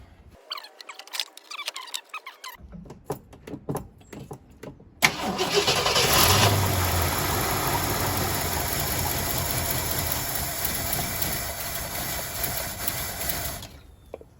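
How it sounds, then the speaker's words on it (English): A 1970 Ford Country Squire wagon cold starts after some clicking and handling noises. The starter cranks briefly, then the engine catches and settles into a loud, steady idle close by for about nine seconds before cutting off. "For a cold start, that's probably the best I've had in a while."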